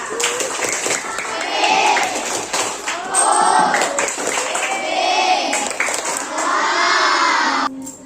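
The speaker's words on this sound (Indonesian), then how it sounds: "tepuk tangan untuk kelompok kita" A fifth-grade class of children claps and cheers for a student group, with excited shouting voices rising in waves over scattered clapping, loud and close, running nearly the whole time.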